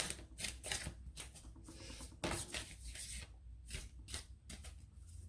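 Tarot cards being shuffled by hand in a quiet room, a run of crisp, papery riffles and slaps repeating in quick bursts, close and fairly soft, with no talking.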